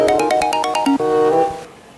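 A phone ringtone plays alone and fairly loud: a quick run of repeated electronic tones, then a longer sustained tone that fades out.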